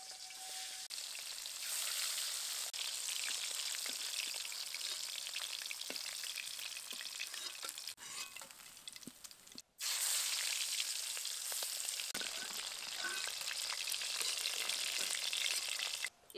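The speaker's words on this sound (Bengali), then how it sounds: "প্রথমে আমি ফলুই মাছগুলো দিয়ে ভেজে নেব।" Foli fish fry in mustard oil in a wok, a steady bright sizzle with occasional crackles and stirring clicks, broken by a brief gap before the sizzling resumes.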